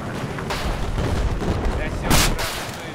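Gunfire in the video game Battlefield 4 comes as two loud, sharp bursts with rumbling booms between them, while a person talks over the shots.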